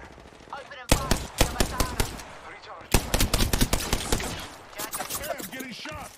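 Gunfire in the video game Apex Legends, with rapid automatic bursts crackling in several loud volleys, up close, over faint background game sounds.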